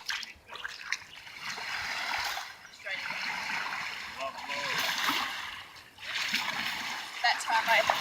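A kayak paddle splashes and swishes through the water in repeated strokes, with close watery splatters and drips between pulls. Faint talk sits underneath.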